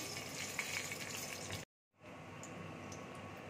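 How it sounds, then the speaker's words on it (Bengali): Dry red chillies hiss and crackle in hot mustard oil, a steady close sizzle that stops briefly for about a quarter second and then resumes just as dense. "সর্ষের তেল দিয়েছি, শুকনো লঙ্কা ফোড়ন দিচ্ছি"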